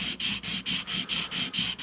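A cap-and-ball revolver's cylinder arbor hole being polished by hand with 320-grit abrasive, rubbed back and forth in about eight even, rhythmic scraping strokes, close and clear with no talking.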